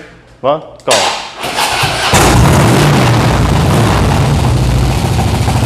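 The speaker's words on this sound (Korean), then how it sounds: "한번 시동 걸어 보시죠" A Harley-Davidson Softail Slim motorcycle, low mileage and fitted with an aftermarket exhaust, cranks with a couple of thumps then fires into a loud, continuous rumbling idle that fills the rest of the clip, close by.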